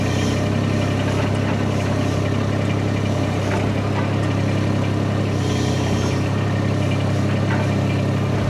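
A vehicle engine idles at lowered RPM on a ranch build site, a loud, close, steady low rumble with a continuous mechanical hum throughout.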